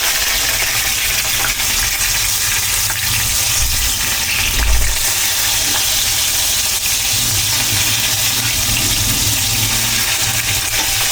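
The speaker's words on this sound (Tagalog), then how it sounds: "Grabe yung talsik yung mantika, ha?" Hot cooking oil splatters and sizzles loudly in a pan while eggplant fries, a continuous bright hiss with crackling pops and one heavier burst midway.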